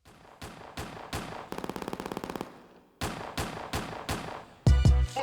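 Gunshots open a diss track: several sharp single shots, then a rapid automatic burst, then more evenly spaced shots and a final heavy booming hit, all loud and close.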